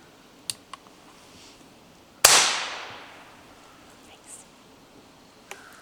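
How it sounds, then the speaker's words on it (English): A muzzleloader primer fired outdoors to clear the fire channel of oil and debris, one sharp loud crack with a short fading tail, preceded and followed by faint small clicks. "checking that the fire channel is clear of oil and debris by firing a couple of primers"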